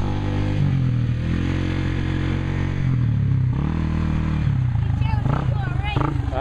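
A motorcycle engine idles and revs steadily nearby as it rides up and comes to a stop, with people talking over it toward the end.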